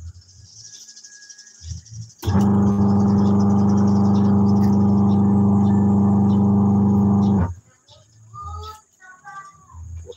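A washing machine's spin motor, freshly fitted with a new capacitor and with its agitator blade not yet installed, runs with a loud, steady hum for about five seconds. Faint voices and room noise are heard before it starts and after it stops.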